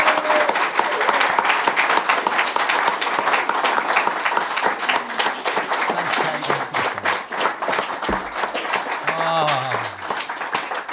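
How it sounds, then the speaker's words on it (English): Applause and clapping from an audience at a live podcast recording with a band, a dense steady wash of many hands for the full length, with some crowd noise and shouts mixed in. "big round of applause for Kate"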